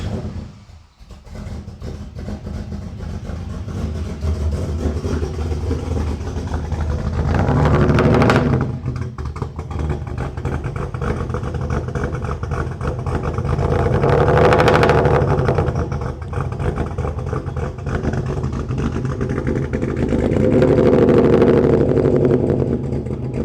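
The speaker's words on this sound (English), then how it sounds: "So now we're going to start it up, get some idle clips" A Chevrolet Camaro with a custom exhaust starts up and settles into a loud, deep rumbling idle nearby, with a few blips of revving swelling and fading over the steady burble.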